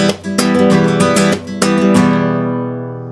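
Nylon-string guitar strummed in a flamenco rumba pattern, bright percussive down-and-up strokes in a driving rhythm over ringing chords, close and loud, with the final chord left to ring and fade.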